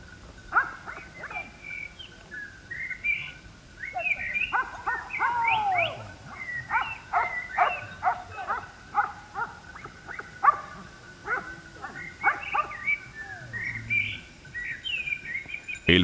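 Hunting dogs bark repeatedly at a distance during a boar and deer drive in open hill country of the Picos de Aroche natural park in Andalucía, with birds chirping throughout. No voices.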